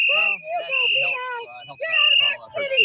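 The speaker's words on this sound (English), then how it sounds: "hearing people blowing the whistles and saying get out" Protesters blowing shrill whistles in repeated piercing blasts at a street protest against immigration enforcement, loud and near, mixed with shouting voices from the crowd.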